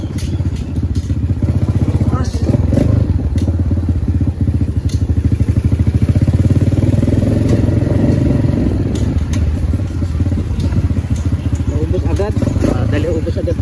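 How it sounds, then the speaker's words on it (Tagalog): A motorcycle engine runs steadily and loudly up close with a rough, throbbing exhaust note throughout, people talking over it. "Grabe itong motor na to."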